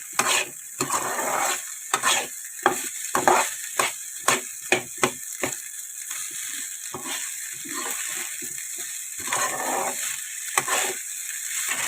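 Aloo (potato) rice being tossed and stirred in a pan over a high flame, with a steady sizzling hiss and a run of quick scraping, clinking stirs that come in bursts, close and fairly loud, with no talking.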